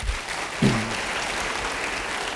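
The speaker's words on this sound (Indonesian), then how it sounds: "Beri tepuk tangan bagi dia." A congregation at a church sermon applauds, a steady wash of clapping that holds evenly for a couple of seconds, with one brief low voice sound near the start.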